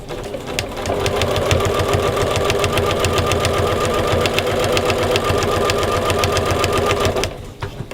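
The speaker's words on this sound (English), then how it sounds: "what I'm going to do is sew towards the corner of the placemat, and I'm going to stop about 3 inches away from this corner" Sewing machine stitching along a fabric placemat toward its corner, a steady rapid mechanical whir with fast regular needle clicks running continuously for about seven seconds before stopping.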